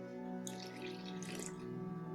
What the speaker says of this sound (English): We want 250 of our water.